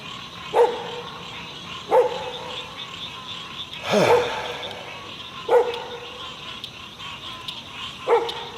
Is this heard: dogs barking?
yes